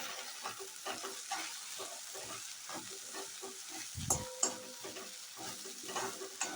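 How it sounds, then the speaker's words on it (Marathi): Steamed okra being stirred with Maggi masala in a pan: repeated close spatula scrapes in an uneven rhythm over a soft, steady sizzle, with a couple of louder knocks near the end and no voices. "हे आता मॅगी मसाला टाकल्यावर असं मिक्स करून घ्यायचं आहे"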